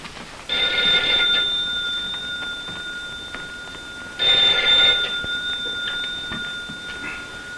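An old-fashioned telephone bell rings in a detective drama, two loud, close bursts of ringing separated by a pause of a few seconds.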